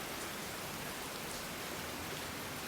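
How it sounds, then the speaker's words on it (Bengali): Heavy rain pours steadily in Luang Prabang, a dense, unbroken hiss with no voices or other sounds cutting through. "প্রচুর বৃষ্টি হচ্ছে।"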